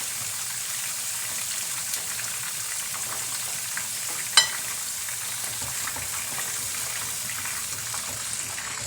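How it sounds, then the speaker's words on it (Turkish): Eggplants frying in oil in a pan sizzle steadily and fairly loud up close, with one brief sharp knock partway through as a piece is turned. "Patlıcanlarımızı arada bir çevirip kontrol ediyoruz. Her tarafı kızarsın."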